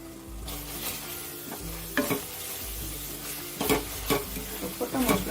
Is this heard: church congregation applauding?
no